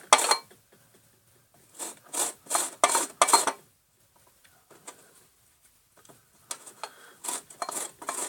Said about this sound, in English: be very careful if you have to use these graters